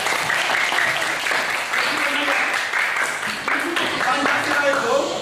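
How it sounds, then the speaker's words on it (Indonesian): Children and audience clap together during a Pancasila lesson, steady lively applause lasting several seconds with a voice talking over it. "tepuk tangan buat adik-adik semua"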